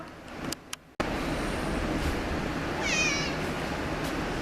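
A cat meows with a rising, wavering call partway through, heard over a steady background hum with faint traffic-like noise and a brief dropout near the start.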